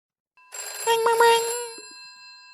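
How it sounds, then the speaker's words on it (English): A telephone rings with a single bright electronic trill that starts abruptly, holds for about a second and fades in a faint ringing tail. "Oh, the phone's ringing."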